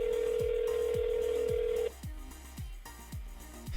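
A phone call being dialed: a steady dial tone holds for about two seconds while a series of evenly spaced short beeps repeats, continuing alone and a little quieter after the tone cuts off.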